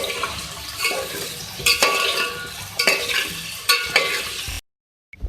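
Potatoes frying in hot oil for a beef aloo fry masala, a steady sizzle broken by several sharp stirring scrapes and clatters of a utensil against the pan, ending abruptly in silence.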